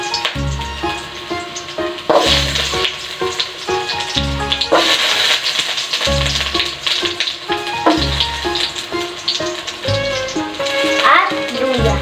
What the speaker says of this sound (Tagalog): maglagay na po tayo ng mantika. Igisa na po natin ang bawang,